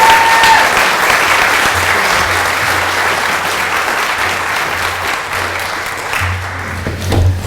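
A room of attendees at a Chamber of Commerce annual meeting gives a sustained, loud round of applause for an Entrepreneur Award winner, dense and even throughout with a slight rise near the end.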